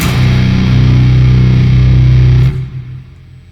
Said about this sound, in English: What we're doing is slapping a reverb in the back of it, so it goes like this.